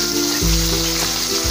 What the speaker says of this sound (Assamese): এতিয়া মই ইয়াতে পিঁয়াজখিনি দি দিম